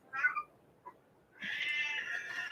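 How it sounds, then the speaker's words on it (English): A pet cat meows in two short bursts with a quiet gap between them, then lets out a longer, louder drawn-out meow. The calls are close and clear, with no talking over them. "This is our election. That's our cat."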